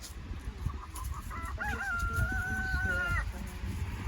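Chickens cluck and call close by while being fed corn, one drawn-out tonal squawk standing out over a rumbling, noisy outdoor background.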